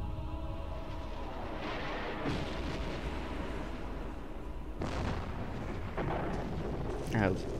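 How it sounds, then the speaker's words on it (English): Explosions outside in Resident Evil Code Veronica X: distant booming blasts rumble at intervals over a dense, continuous roar, with a few sharper cracks toward the end. "apparently it's World War III with those explosions outside."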